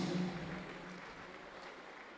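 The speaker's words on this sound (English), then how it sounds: "Let's invite him with a round of applause." Faint, steady applause from an audience welcoming the senior school prefect at a school's 72nd anniversary speech and prize-giving day, a soft continuous patter heard from a distance.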